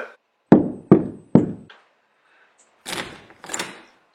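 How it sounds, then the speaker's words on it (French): Three sharp, forceful knocks on a bedroom door, police-style and evenly spaced, ring out close and loud, followed after a pause by two softer, muffled thumps. "T'as Monsieur Chauve qui entre dans ta chambre en toquant à la porte comme si c'était la police."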